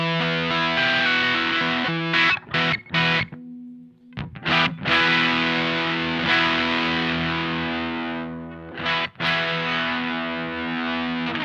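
Heavily overdriven electric guitar chords through a Mad Professor Simble Overdrive pedal with the gain cranked ring out loud and sustained, broken by a few short muted pauses before the distorted tone swells back in.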